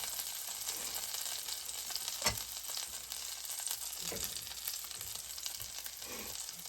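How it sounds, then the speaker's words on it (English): Cornbread cakes fry in a cast iron pan with a constant close bubbling sizzle, broken by a few louder crackling bursts. "you can hear it frying"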